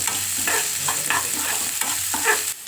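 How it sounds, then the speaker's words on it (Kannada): A tempering of cumin, mustard seeds, chana dal and chopped onion frying in hot oil, with a steady crackling sizzle broken by four rhythmic spatula scrapes across the pan, close by and with no voices. "ಎಣ್ಣೆ ಬಿಸಿ ಆದಮೇಲೆ ಒಗ್ಗರಣೆಗೆ ಜೀರಿಗೆ, ಸಾಸಿವೆ, ಕಡಲೆಬೇಳೆ ಮತ್ತು ಸಣ್ಣದಾಗಿ ಕಟ್ ಮಾಡ್ಕೊಂಡಿರೋ ಈರುಳ್ಳಿನ ಹಾಕಿ ಚೆನ್ನಾಗಿ ಫ್ರೈ"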